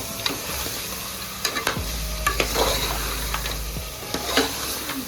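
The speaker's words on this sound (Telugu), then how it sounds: "మసాలా వేసుకొని చక్కగా ముక్కలు పట్టేలాగా చక్కగా కలుపుకుందాం." A spoon stirs goat head curry with masala as it fries in a pan, scraping and clattering in a steady rhythm over a constant loud sizzle, close up with no talking.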